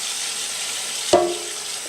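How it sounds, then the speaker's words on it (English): Water is poured over raw oats in a bowl, starting as a short splash and then running on as a steady soft pour, heard close and alone. "So what we do now is just pour over some water."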